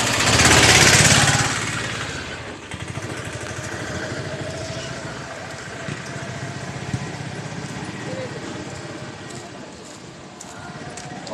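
A motorcycle engine runs steadily at a near idle outdoors, its rough broadband rumble loudest in the first two seconds and then settling, with faint background voices.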